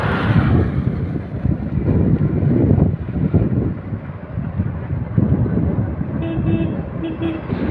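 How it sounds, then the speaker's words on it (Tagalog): Car horns honk at a cyclist riding along the roadside in the Philippines, short toots cutting through heavy wind buffeting and passing traffic noise. "Kahit nasa may gilid ng mga siklista, bubusinahan pa rin."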